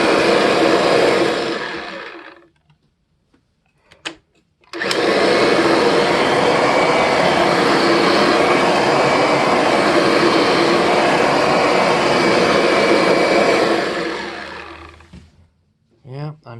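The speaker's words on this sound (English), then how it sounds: "I'm still hearing a little bit of a clacky wind down" A Kirby Diamond Edition vacuum with its transmission running gives a loud, steady roaring whine for long stretches, cutting off briefly and then starting again before ending in a short clattering wind-down, close to the listener.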